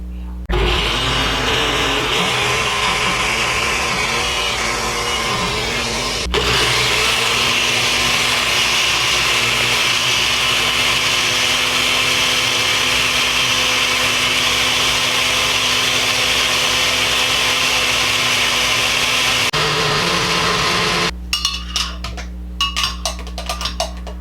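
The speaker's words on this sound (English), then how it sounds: "I'm just going to blend it." An old countertop blender purees chili sauce with broth, a loud steady whirring roar that holds for most of the stretch after a brief start and shift in pitch, then cuts off.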